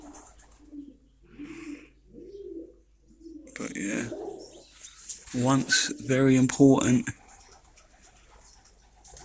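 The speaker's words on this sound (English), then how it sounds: "Hear a lot of pigeons." Pigeons coo softly in short repeated phrases from a nest inside old derelict buildings at Shoebury, Southend-on-Sea, Essex, before a person begins talking over them.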